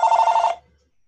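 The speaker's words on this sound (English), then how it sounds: "That's my phone." A mobile phone ringing during a call, one loud, steady electronic ring burst lasting about half a second before cutting off into near silence.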